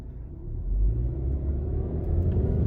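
A Subaru Ascent accelerates with a low rumbling drone from inside the cabin, rising slightly in loudness as the transmission surges, with no voices.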